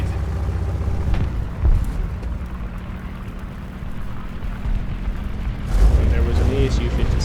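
In a tank video game, a cannon fires an armor-piercing round with a deep boom over steady engine rumble, followed by a second heavy thump near the end.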